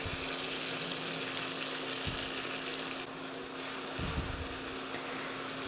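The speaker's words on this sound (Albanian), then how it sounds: "e t'i skuqim për pak." Sliced peppers fry in a pan with flour stirred in, making a continuous loud sizzle with occasional low thumps and scrapes from stirring.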